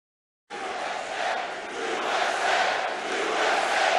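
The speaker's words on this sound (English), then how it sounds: "President Trump at a rally Tuesday night in New Jersey applauding U.S. troops" Crowd at a Trump rally in New Jersey cheering and shouting, a dense, loud roar that bursts in abruptly and swells steadily without a break.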